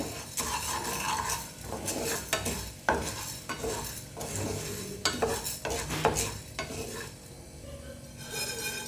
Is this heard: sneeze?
no